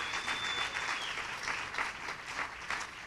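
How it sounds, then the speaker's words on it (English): An audience at a relaunch event for a gender-based violence safety and reporting desk applauds a band, steady dense clapping that holds at an even level for several seconds with no speech. "round of applause."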